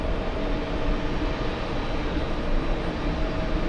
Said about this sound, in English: And this is the Aero Mexico 737 touching down.